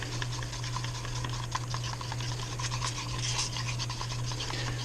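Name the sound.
mixing two-part pour foam in a cup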